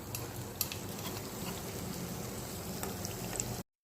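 A Motta puffs snack fries in hot oil, giving a steady, close crackle and sizzle with scattered small pops throughout before an abrupt cutoff.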